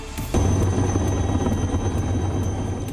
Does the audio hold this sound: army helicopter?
yes